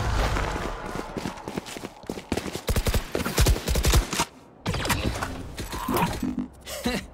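Rapid gunfire bursts from the tactical shooter Valorant on the Icebox map, loud and clustered close together with brief pauses between volleys.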